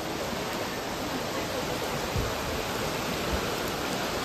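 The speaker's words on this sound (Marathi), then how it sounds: "हे बघा मी तुम्हाला बोललो ना बाजूला नदी आहे." A river rushes beside a path near the Patalganga shrine at Khopoli in monsoon rain, a steady broadband wash of flowing water and rainfall, loud and unbroken throughout with no voices.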